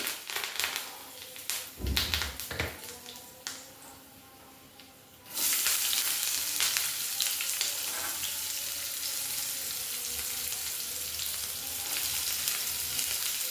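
Cumin and curry leaves sizzle in two spoons of hot oil in a kadai, with scattered clatter at first, then a sudden loud, steady frying hiss that keeps going to the end.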